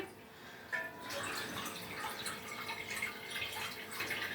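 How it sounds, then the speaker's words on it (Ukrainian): Water pours steadily into a jar of pork belly being preserved in its own juices, a close trickling and splashing that runs on without pause. "зараз я, мабуть, я долію ще води"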